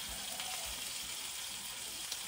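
Bacon frying in a pan, a faint, even crackling sizzle with a couple of soft low bumps, no voices over it.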